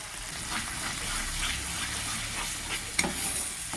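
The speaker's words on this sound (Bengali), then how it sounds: "এইভাবে মশলাটা কষতে হবে" Masala spice paste frying in oil for a potato and soya chunk curry, a steady close sizzle and hiss with stirring scrapes throughout and one sharp tap near the end.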